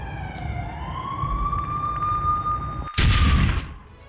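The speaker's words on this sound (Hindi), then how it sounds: "इजराइल के कई शहरों में एयर रेड सायरन बज रहे हैं।" An air raid siren sounds in an Israeli city, one steady rising and sustained wail over rumbling background noise, cut off by a loud burst of broadband noise near the end.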